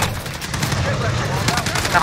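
Rapid gunfire crackles from Call of Duty Modern Warfare, dense automatic bursts and shots packed together loud and close, with excited shouting over the barrage.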